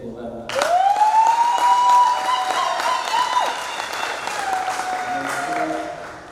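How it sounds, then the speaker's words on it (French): Applause for a choir at a funeral life celebration swells up and holds as a steady wash of many hands, with a sustained sung or hummed tone over it and voices chattering through the crowd. "je nous supplie d'applaudir encore pour cette belle chorale."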